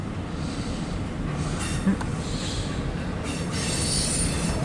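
A CSX empty autorack freight train rolls past as it begins to gather speed, its wheels giving off shrill, wavering squeals over a continuous low rumble at moderate distance.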